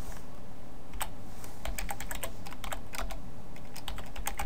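Keys clatter on a computer keyboard in an irregular burst of sharp taps, some clustered quickly and some spaced apart, close and fairly loud over a faint background hiss.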